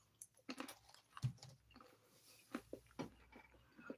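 Close, quiet chewing of candy (M&M's, raisins and toffee-covered peanuts), with irregular crunchy bites and soft mouth sounds separated by short pauses.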